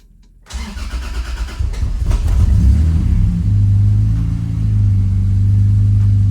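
A manual right-hand-drive car that has sat for four months cranks and catches, then settles into a loud, close idle with a slightly uneven, misfiring rumble.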